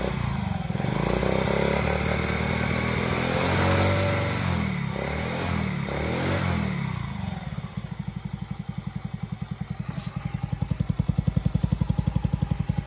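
Motorcycle engine running loudly after exhaust and filter work, with a rough, rumbling drone that turns into a choppy, rapid pulsing idle, close by.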